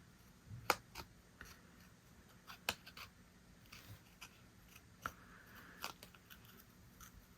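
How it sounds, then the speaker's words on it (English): Scissors fussy cut paper around the body of a peacock shape, a scattered series of sharp close snips spaced irregularly over a quiet background. "take my scissors and fussy cut"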